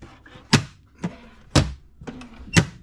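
Small cupboard doors in a boat's galley kitchen are shut one after another, giving four sharp, close wooden thunks at roughly half-second intervals, with quiet rustling between them and no speech.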